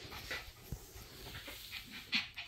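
A nine-week-old puppy pants close by in quick, uneven breaths, broken by a few soft, brief whimpers.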